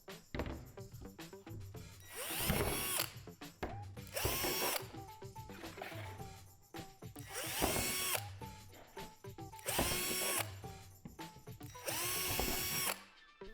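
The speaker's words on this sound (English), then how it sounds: "Take your slide deck and drill out all of the holes" A power drill whirs in repeated bursts, drilling holes in a swing set's plastic slide deck, revving up and winding down several times, with ratcheting mechanical clicks between runs; no one speaks.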